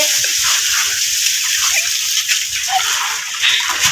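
Steady rushing water from a hose runs continuously, a broad hiss with occasional splashy bursts, fairly close and loud, with no voices.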